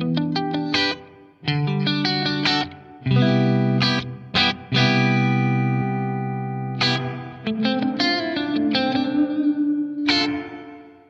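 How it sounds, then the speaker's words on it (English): Guitar chords and single notes run through a BOSS RV-500 pedal set for a dull, dark ambient reverb, sustained tones swelling and blurring into one another with long washy tails, loud and steady with no voices. "With the low control quite high and the high control on a negative setting, you get a very sort of just dull ambient reverb."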